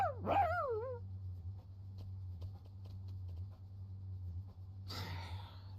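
A dog in the role-playing video game Octopath Traveler 2 lets out a short, wavering whimper at the start, followed by quiet ambience with a low hum and a brief burst of sound near the end.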